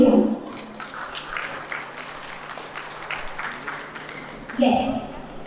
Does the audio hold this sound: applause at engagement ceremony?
yes